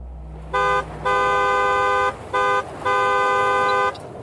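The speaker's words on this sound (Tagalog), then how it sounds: "pinagpipindot ko rin ng maraming beses ang busina." A car horn honks close and loud in four blasts, short, long, short, then long, with brief gaps between them.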